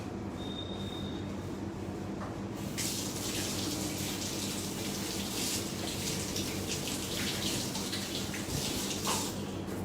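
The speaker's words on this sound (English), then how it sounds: "I'm just going to quickly wash my hands." Water runs steadily from a kitchen tap while hands are washed beneath it, a broad continuous hiss that grows louder partway through and holds close and alone, with no talking.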